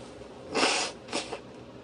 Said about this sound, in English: Excuse me, I gotta blow my nose.